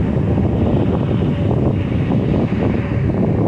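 Strong wind buffets the microphone outdoors on a highway overpass, a loud, continuous roaring rumble that fills the whole clip without pause.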